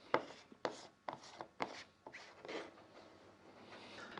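Plastic cup lid being fitted onto a Graco SaniSpray HP20 sprayer cup: a quiet, close series of sharp clicks and scrapes, roughly eight separate knocks spaced unevenly, fading into soft rubbing.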